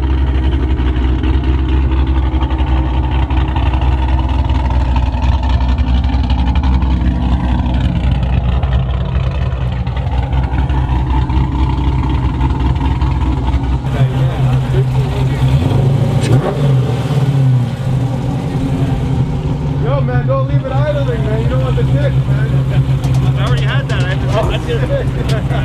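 A cammed 392 car running open, catless Borla exhaust, idling with a lumpy rumble and then revving loudly and close, while people talk over the engine throughout.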